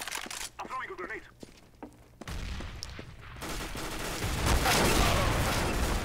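Gunfire in Counter-Strike: Global Offensive, sharp single shots crack out amid talk, then a sustained loud barrage of rapid fire builds and roars continuously to the end.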